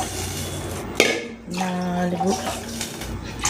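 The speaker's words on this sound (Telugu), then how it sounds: "4 5 గ్లాసులు వాటర్ పోసాను." Water is poured into a cooking pot while making Ramzan ganji, a loud splashing gush lasting about a second near the middle, with faint kitchen clatter around it.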